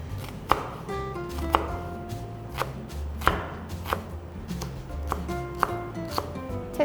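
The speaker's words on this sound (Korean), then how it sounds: "양파를 다질 때는 이렇게 채를 썰 때 먼저 양파가 다 끝까지 잘릴 정도로 썰지 마시고 끝부분을 남겨두세요." A knife chops through an onion on a cutting board in repeated sharp taps, close and steady, with a brief pause between bursts and no talking.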